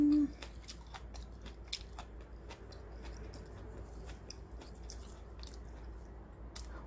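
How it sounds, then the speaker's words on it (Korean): Crisp bean sprouts grown with green tea water are chewed close up, a steady run of wet crunches and bites with no talking. "씹히는 맛도 아삭아삭하니 정말 안 무치고 그냥 먹어도 되겠는데요"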